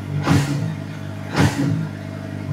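Retro-styled motorcycle engine at close range, idling under two quick throttle blips that each swell into a short rev and fall back.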